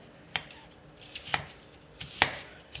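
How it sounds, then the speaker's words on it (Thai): Three sharp knife chops through lemongrass on a cutting board, evenly spaced about a second apart, close and crisp with a quiet room behind. "ขั้นตอนแรกเราก็ หั่นตะไคร้ก่อน"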